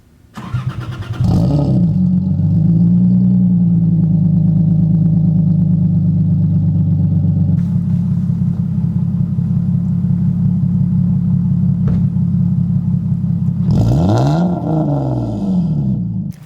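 A car's exhaust fitted with a real catalytic converter runs at a steady, loud idle, with brief revs blipping near the start and again near the end, the engine note close and continuous throughout.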